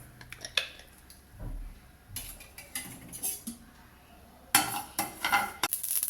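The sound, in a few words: mustard seeds sizzling in hot oil on a tawa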